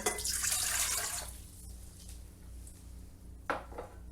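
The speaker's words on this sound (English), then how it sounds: "so we're going to put our water in" Water poured into a bread dough mixture of yeast, salt and avocado oil, a close splashing pour that lasts about a second and a half, then a quiet pause and a brief splash near the end.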